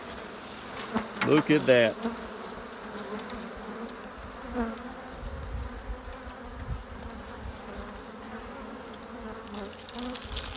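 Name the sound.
honey bees buzzing in an opened hive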